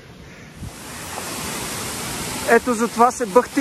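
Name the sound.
Skoka waterfall near Teteven, Bulgaria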